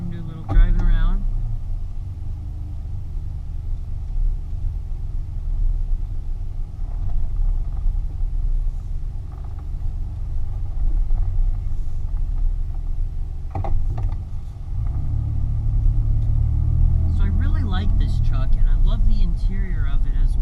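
A 2001 Ford Ranger XLT pickup truck drives along with a steady low engine rumble throughout, growing slightly heavier partway through, with faint interior noises and occasional talk.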